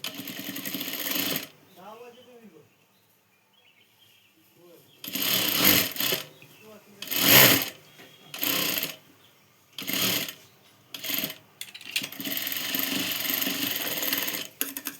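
Short, loud bursts of a sewing machine stitching a blouse, several separate runs with pauses between, the motor whirring up close, mixed with a person talking.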